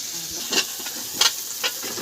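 Potatoes are stirred into a spicy gravy in a pan for bhungla bateta, with a soft continuous sizzle and three sharp scraping spoon strokes close up.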